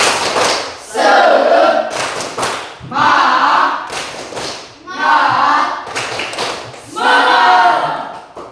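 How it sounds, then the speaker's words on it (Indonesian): A classroom group does a rhythmic cheer clap in unison, four loud bursts of clapping spaced about two seconds apart, with voices chanting along between and during the claps. "Tepuk semangat."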